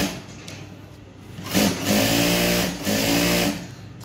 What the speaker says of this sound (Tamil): நான் வேகமாக தைக்க போகிறேன்